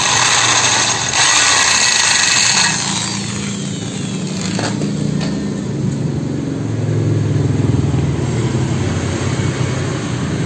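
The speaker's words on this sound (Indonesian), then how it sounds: "kita dibur dengan cara ulir terbalik atau putaran terbalik ya" A power drill bores in reverse rotation into the worn thread end of a steel bolt, a loud continuous close whine and grind throughout, steady with slight shifts in pitch and load.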